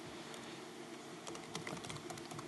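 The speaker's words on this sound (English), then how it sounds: "So I'm going to type it here." Keystrokes on a computer keyboard as a serial number is entered during smart TV modding, a quiet, irregular run of clicks that begins after about a second of near silence.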